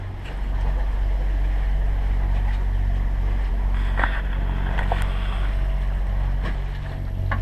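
A sailboat motors along on a single engine against a westward current, its low steady drone loud and constant throughout, with faint wind and water noise and a few light knocks.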